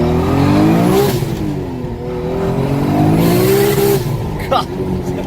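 A manual-transmission car's engine revs loudly and climbs in pitch through the gears as it pulls away, heard from inside the car, while people talk and laugh over it.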